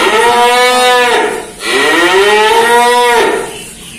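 Limousin cattle in a barn moo loudly and close by, giving two long, drawn-out lows one after the other with a short break between them.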